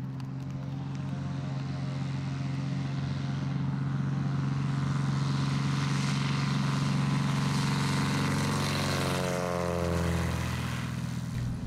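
Light aircraft piston engine and propeller drone steadily at high power through a long takeoff roll at high density altitude, with strong harmonic bands that shift in pitch near the end as speed builds; loud and continuous, no talk.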